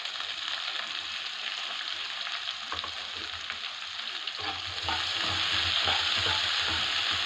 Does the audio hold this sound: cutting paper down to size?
no